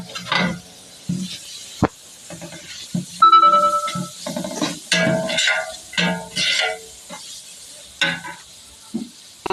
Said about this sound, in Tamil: அதையும் போட்டுக்கலாம். போட்டு நல்லா வதக்கிக்கோங்க.